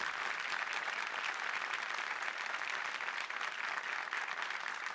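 A concert audience in Ankara applauds a dance ensemble at a Crimean Tatar concert, a continuous, even wash of clapping from a large crowd heard at a distance.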